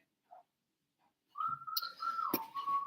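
A husband whistles a happy tune in the background: a short, faint, sustained melodic whistle that starts after a near-silent stretch and wavers in pitch over quiet room noise.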